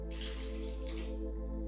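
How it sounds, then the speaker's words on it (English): Water pours steadily into a pot of ginger soup with potatoes for a short moment, a soft, continuous splashing with no one talking over it. "And then add around 3 cups of water."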